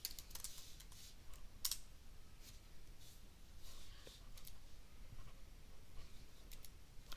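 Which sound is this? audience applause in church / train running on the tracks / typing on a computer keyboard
typing on a computer keyboard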